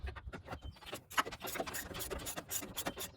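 A ratchet loosens and backs out motor mount bolts on a 2006 Ford Focus during an alternator replacement. It makes close, quiet, rapid clicking and scraping bursts with no talking.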